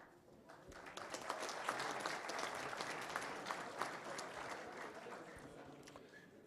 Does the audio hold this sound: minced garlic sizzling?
no